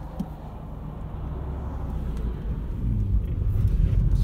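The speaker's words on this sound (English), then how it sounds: "This is a 2000 Honda Insight 5-speed." A 2000 Honda Insight with a 5-speed manual gearbox drives along, giving a low, steady road rumble and engine drone that grows gradually louder.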